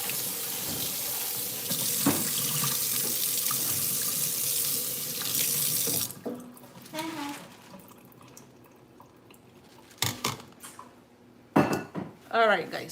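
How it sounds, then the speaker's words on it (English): A kitchen tap runs hard as fish pieces are rinsed under the stream for about six seconds, then cuts off, followed by sparse clinks of dishes and a voice talking. "And then I just rinse it under water and I let it drain."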